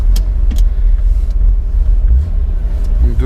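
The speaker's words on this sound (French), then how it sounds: "on entend bien le son caractéristique métallique de chez BM" Inside a stock BMW Z3 M Coupé with its 3.2-litre, 321 hp six-cylinder engine, a steady, deep engine rumble fills the cabin throughout, fairly loud and muffled, with no talking.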